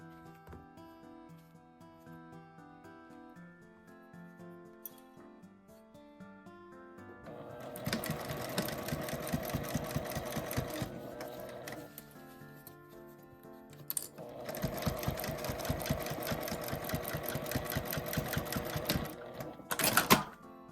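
A sewing machine stitches fabric for a multi-pocket makeup bag, a quiet run-up followed by two long bursts of rapid mechanical rattling separated by a short pause, close and loud, with no talking.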